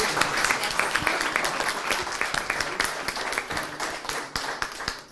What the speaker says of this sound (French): On peut les applaudir. Bravo.